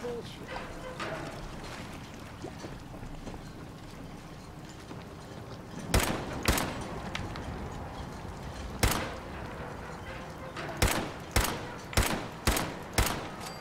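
Combat rifle gunfire in the video game Fallout 4, a handful of sharp separate shots and then a quick string of evenly spaced rounds, loud over a low background of game ambience.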